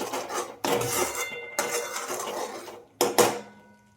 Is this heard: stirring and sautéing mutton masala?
yes